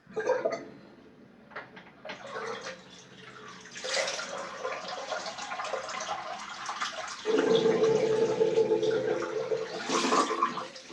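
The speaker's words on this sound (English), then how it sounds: "I'm just going to drain the sink" Water gurgling and draining out of a bathroom sink after a shave, a steady rushing swirl with sloshing and a few glugs, growing louder toward the end as the basin empties, with no voices over it.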